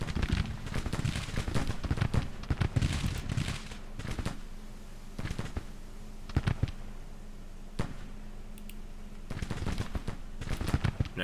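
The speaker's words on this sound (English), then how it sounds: "The skirmishers are still firing." Civil War skirmishers fire muskets in Grand Tactician, a loose, irregular crackle of sharp shots, some bunched into quick volleys and others isolated, over a low steady background.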